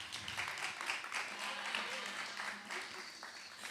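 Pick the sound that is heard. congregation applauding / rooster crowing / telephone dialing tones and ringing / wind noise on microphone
congregation applauding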